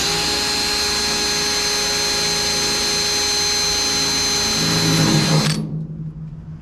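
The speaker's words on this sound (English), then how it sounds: "So let's go ahead and drill this one now." An electric drill boring a hole for the hood emblem on a 1971 GMC Jimmy, a loud steady high whine running several seconds before spinning down and stopping abruptly, close by.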